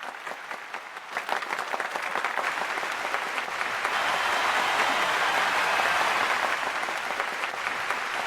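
Sustained clapping from an audience at a live online anniversary event for Unraid, starting sparser and swelling into dense, steady applause that holds loud to the end, with no voices over it.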